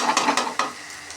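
Onions and chilli sauce are stir-fried in a pan for Tamil chilli parotta: a few quick, close scraping strokes of a spatula over a soft sizzle that fades after the last stroke.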